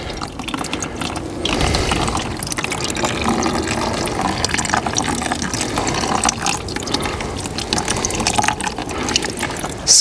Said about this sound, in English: If you twist the neck, the whole bag gets squashed and the juice pours out.